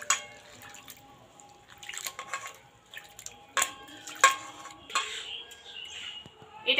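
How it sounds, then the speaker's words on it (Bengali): Flattened rice (chira) gets washed in a bowl of water, heard as close, irregular splashes, drips and soft sloshing with occasional clinks from the vessel, and no talk. "এরপর চিড়েটাকে ভালোভাবে কিন্তু এটা ধুতে লাগবে।"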